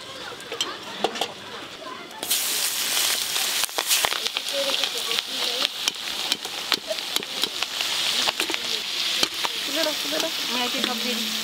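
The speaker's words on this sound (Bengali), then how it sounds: "ভাজা হচ্ছে" Mustard-coated hilsa fish frying in a pan during a large home cooking session, a steady loud sizzle with crackling pops and occasional stirring knocks, no talk over it.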